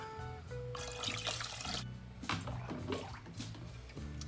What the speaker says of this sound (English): we're gonna put in 3 cups of water